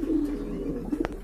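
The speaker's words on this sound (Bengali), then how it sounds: "আর এখানে কিন্তু আর এক জোড়া কবুতর রয়েছে, এটা কিন্তু আপনার রেসার কবুতর, মাক্সি রেসার মাশাআল্লাহ।" A pair of maxi racer pigeons coo softly and steadily at close range, with low, rounded calls continuing throughout and no talking.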